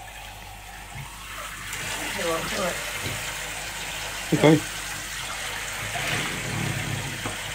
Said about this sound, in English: Hose him down properly with the shower